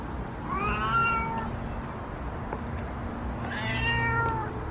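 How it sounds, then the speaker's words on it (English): A male cat meows indoors, two separate drawn-out meows a few seconds apart, close and clear over a low steady household hum. "I don't know why Hydrox is meowing right now"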